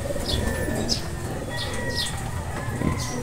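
A pigeon flaps its wings in short repeated bursts while being held by hand, with soft cooing and faint chirps in the background.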